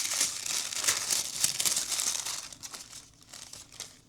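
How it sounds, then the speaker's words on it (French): Paper advent calendar ticket crinkles and tears as it is opened, steady close rustling that thins out toward the end. "on va pouvoir ouvrir le ticket du jour"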